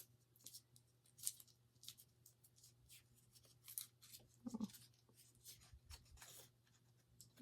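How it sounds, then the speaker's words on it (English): Pen or pencil writes on paper, faint scratchy strokes that come in short irregular bursts and pauses against a low, quiet hum, with no talking. "Write out a plan."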